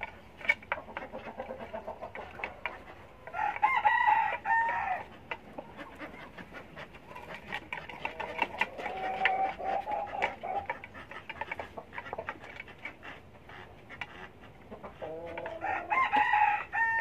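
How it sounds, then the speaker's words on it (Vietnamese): Mía breed chickens on a farm crow in several loud, drawn-out calls spaced across the stretch, with steady clucking and scratching between them at moderate distance. "Đây gọi là giống gà mía"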